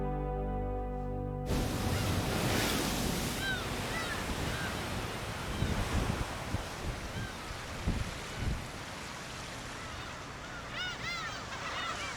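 Wind and rough sea waves surge and rumble continuously on the open coast at Guryongpo, Pohang, South Korea, with occasional gull-like calls in the distance.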